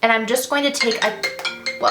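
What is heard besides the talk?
alarm going off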